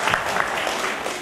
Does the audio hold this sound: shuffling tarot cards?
no